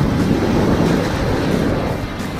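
Ocean waves break on the shore at Colibra Island, a continuous loud roar of surf close by, mixed with wind buffeting the microphone, with no pauses throughout.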